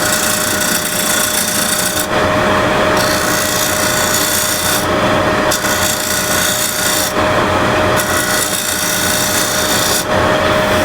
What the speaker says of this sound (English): A shear scraper here first.